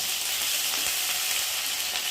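Khichuri masala of ginger paste, green chillies, tomato, bay leaf and cumin sputters in a pan, a dense steady sizzle that stays close and even with no voices.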